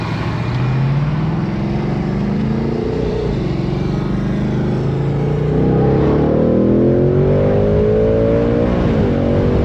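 A 2026 Ford Mustang GT with a 10R80 transmission revs loud and close in sport mode, its engine note climbing through repeated pulls and quick shifts, continuous and strong throughout.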